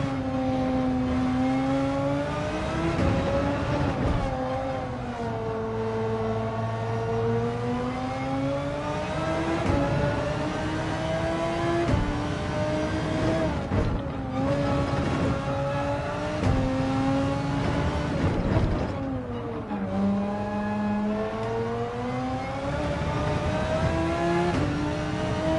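A VW GTI VGT race car in Gran Turismo 7 drones and revs through repeated gear changes, its engine note rising and falling in steady cycles, loud and continuous with no talk.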